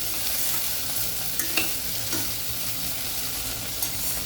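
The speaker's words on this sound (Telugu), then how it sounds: "ఈ టైంలో కొంచెం తగ్గించుకొని ఫ్లేమ్ మంచిగా అంతా ఫ్రై చేసుకోవాలి." Potato and carrot pieces fry in a pan for mint rice, giving off a steady, close sizzle with faint stirring scrapes and no talk.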